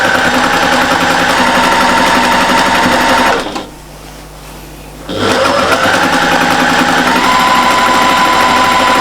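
A sewing machine runs in fast, even bursts while stitching a patchwork and appliqué cushion, stopping for about a second and a half in the middle before whirring on at close range.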